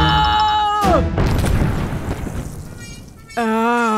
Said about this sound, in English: A bomb?